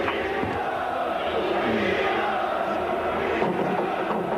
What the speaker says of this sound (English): A good crowd as well at Selhurst Park